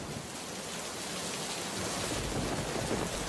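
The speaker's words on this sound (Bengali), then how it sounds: "কচু পাতার ছাউনির ওপর পড়া বৃষ্টির শব্দ শুনতে শুনতে তারা ঘুমিয়ে পড়ে" Steady rain drums on a roof thatched with taro leaves at night, an even, dense hiss that stays constant and swells a little toward the end, with no voices.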